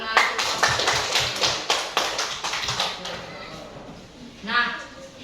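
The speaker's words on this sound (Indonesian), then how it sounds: "Tepuk tangan." Schoolchildren in a classroom clapping their hands in a series of sharp, rhythmic bursts, loud and close, fading out with a brief voice near the end.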